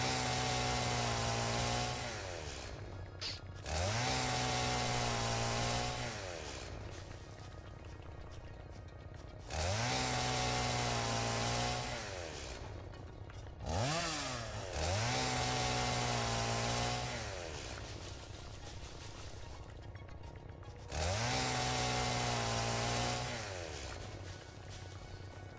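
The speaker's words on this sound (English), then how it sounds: "Well, now that I got the chainsaw" A chainsaw in the video game Satisfactory revs in repeated bursts of a few seconds each, loud and close, with brief idle dips between cuts.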